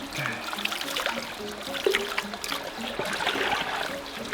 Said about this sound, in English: Now fill it with water from the big metal bowl.